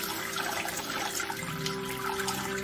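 Wort drains from a brewing grain bag into a pan during a homebrew Märzen brew day, a continuous splashing trickle of liquid with a steady hum underneath.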